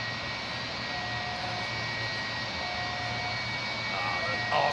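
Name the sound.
jet aircraft engines, likely Rolls-Royce RB211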